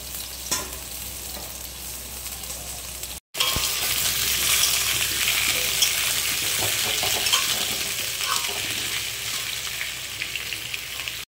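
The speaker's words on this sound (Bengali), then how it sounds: "তো চলো লাল লাল করে বন্ধুরা আলুটা ভেজে নিই" Potatoes fry in hot oil in a home kitchen with a steady, close sizzle that swells after a short pause, with occasional light stirring clinks.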